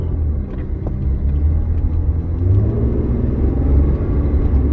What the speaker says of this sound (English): Right, time to take it for a little drive.